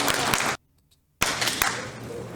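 A debate panel audience bursts into applause, which cuts out abruptly for a moment of silence and then returns as a dense wash of clapping.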